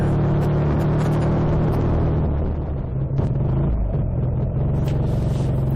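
A motorcycle engine drones loud and close on a sunny road test ride, steady rumble with shifting pitch and wind buffeting, no voices.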